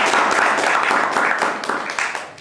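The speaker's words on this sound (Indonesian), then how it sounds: "Sekarang tepuk tangan untuk Anda." An evening seminar audience claps together for a few seconds, a dense patter of hands that fades slightly toward the end, with no voices on top.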